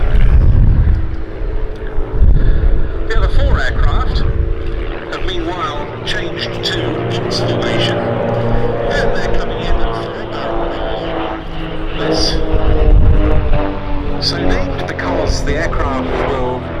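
Aerobatic display aircraft of the Team Raven formation flying at the Duxford Summer Air Show, a loud continuous propeller engine drone that swells and shifts in pitch as they roll and head away, with a commentator talking over it.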